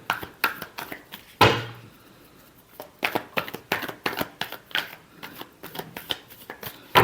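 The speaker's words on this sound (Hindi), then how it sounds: "Last shuffle." Tarot cards are shuffled in a rapid series of close, crisp riffles and slaps, broken by a short pause, with no talk over them.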